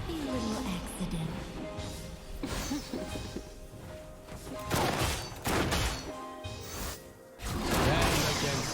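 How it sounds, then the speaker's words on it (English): Turret destruction in League of Legends, heard as a dense burst of crashing, crumbling impacts and whooshes over busy game effects and music, with louder surges near the end while a game announcer voice speaks. "Destroyed a turret."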